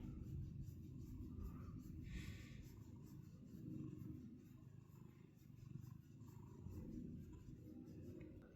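A low, steady purring rumbles continuously and softly, close and uninterrupted, with no voices.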